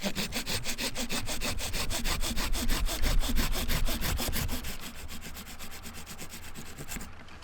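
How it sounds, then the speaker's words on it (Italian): Hand saw cutting through an apple tree branch during pruning, a steady run of rapid back-and-forth rasping strokes, close and loud, easing off toward the end. "non c'è spazio qui per il seghetto, quindi taglieremo di qua ma sostenendo il ramo con l'altra mano"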